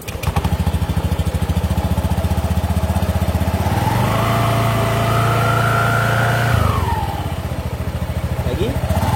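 Honda Scoopy scooter with a vibrating engine fault, started and running: a loud close steady putter at idle that revs up mid-clip and then settles back, with a voice briefly over it.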